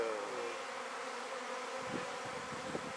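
A honeybee swarm busily building on new comb hums in a dense, steady drone close by, with a few louder buzzes of single bees passing near the hive.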